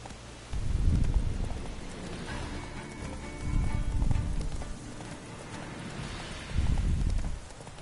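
Horse hooves in The Witcher 3 video game, heavy rhythmic galloping thuds rising and falling in loud bursts, with no talking.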